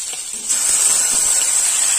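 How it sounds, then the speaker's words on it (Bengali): Onion and ground spices sizzling in hot oil for a fish and taro curry, a steady bright hiss that jumps louder about half a second in and then holds close and even, with no talking. "পেঁয়াজ লাল করে ভেজে নিয়েছি, রসুন বাটা, আদা বাটা, জিরে গোলমরিচ শুকনো লঙ্কা বাটা দিয়ে দেব।"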